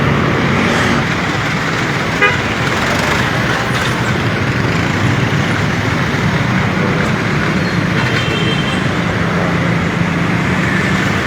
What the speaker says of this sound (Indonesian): ini antrian solar truk untuk mengantri solar